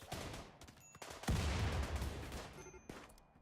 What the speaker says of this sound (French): Ouh, headshot. Ça doit faire mal Baker.